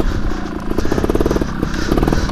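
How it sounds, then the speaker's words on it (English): Trials motorcycle engine revved hard at close range, a loud buzzing exhaust note with rapid pulsing firing and small surges in pitch, no voices. "She still sounds good when she's revved up. See, they'll get loud."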